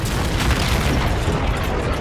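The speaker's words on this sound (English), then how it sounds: "You destroy the last enemy carrier with an orgasmic explosion" A huge explosion as an enemy carrier is destroyed in the video game Call of Duty Infinite Warfare, a dense continuous loud roar and rumble that fills the whole stretch without voices.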